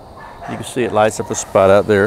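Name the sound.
dogs barking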